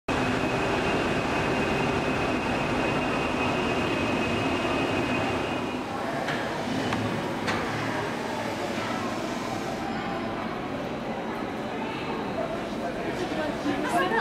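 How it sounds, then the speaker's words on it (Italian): Steady low rumble and rattle of an old train in motion in the Douro region, continuous throughout, with a faint whine early on and occasional clanks; voices murmur faintly beneath. "Non è un treno antico, solo un treno vecchio."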